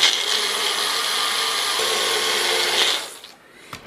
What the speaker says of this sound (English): Pop on the blender bottom and blender up.